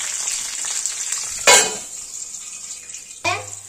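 Green chillies and curry leaves hit hot tempering oil with mustard seeds, giving a continuous close sizzle that flares into two loud crackling bursts as each batch drops into the pan.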